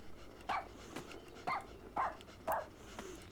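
Puppies in the video game Yes Your Grace Snowfall yip in four short evenly spaced barks, moderately loud against a quiet background.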